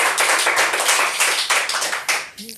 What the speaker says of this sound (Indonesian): tepuk tangan dong buat Rama Satya.